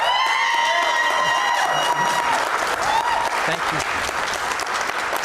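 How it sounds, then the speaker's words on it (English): A live audience at a city council candidates' debate claps loudly and steadily while cheers and voices rise within the crowd, with a brief spoken thanks heard over the applause. "hold your applause until the end of the debate, except for right now, when we want to introduce you to tonight's candidates."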